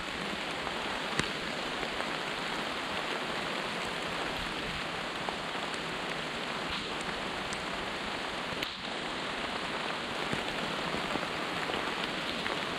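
Steady rain falls on surfaces outdoors at a campsite where a tent is being pitched, a dense, even patter with scattered louder drops and no talking.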